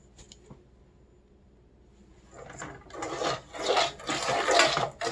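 Cornmeal cookie batter stirred in a bowl, first a few light taps and clinks, then a rough rhythmic scraping and rubbing that builds and grows louder through the second half, close by.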